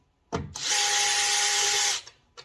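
A power drill with a screwdriver head whirs steadily for about a second and a half at close range, removing screws from a Chevy Trax taillight, starting and stopping abruptly, with a short buzz afterward.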